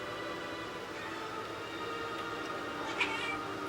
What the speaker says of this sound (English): I'm gonna go pet my cat because she's meowing at me.